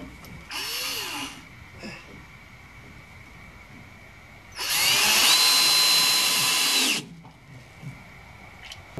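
A power drill drives screws into a wooden pickup truck animal carrier in two bursts, a short whirring run followed by a longer, louder one after a pause, with no talking.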